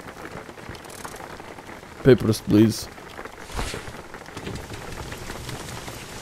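Steady rain falls in the driving game Jalopy, a soft, constant hiss of drops under a few thumping footstep-like knocks and a brief spoken line.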